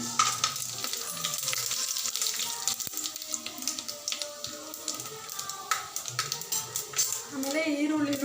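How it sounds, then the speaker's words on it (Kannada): Spices dropped into hot oil for vegetable pulao, a soft continuous sizzle with faint stirring and scraping, fairly quiet and steady throughout without talk. "ಎಣ್ಣೆ ಹಾಕ್ಕೊಂಡಿದ್ದೀನಿ ಎಣ್ಣೆ ಕಾಲಿದೆ ಪಲಾವ್ ಐಟಮ್ಸ್ ಹಾಕ್ಕೊತಿದ್ದೀನಿ"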